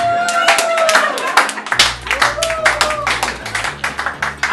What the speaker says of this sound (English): I just want to applaud him